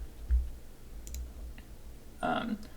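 Faint, sparse mouse clicks come from navigating a quest menu in a modded Minecraft modpack over a quiet background, with a short voice near the end.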